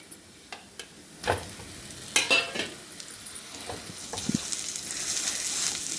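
Boiled mashed potato being stirred into a tempered pan, close spoon scrapes and clanks over a low sizzle that swells toward the end.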